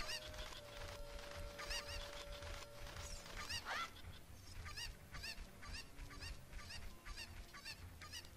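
Repeated squawks and clucks from Zelda Ocarina of Time cucco chickens come in an irregular, honk-like series of clear game-audio calls, one louder cry near the middle, without talk.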